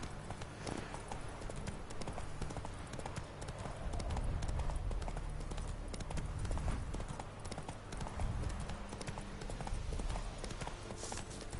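Horse hooves clip-clop at a steady gallop in The Witcher 3 video game, a continuous rhythmic pounding that runs throughout, loud and close, with no voices.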